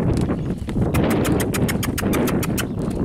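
A heavy crossbred Pampa colt, stocky and overweight, moves with clear clip-clopping hoofbeats in a steady, quick rhythm, sounding close and loud over a constant background rumble.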